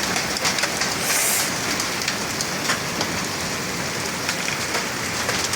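Heavy rain pours steadily at a farm during a storm with strong wind, a dense, loud, continuous hiss of drops on surfaces with no talking.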